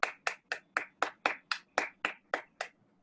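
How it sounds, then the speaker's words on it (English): Clapping greets a yoga specialist guest on a talk show: about a dozen crisp, evenly spaced claps in a steady rhythm, close and clear, like one or a few pairs of hands, fading at the end with no talking. "A big round of applause for ma'am."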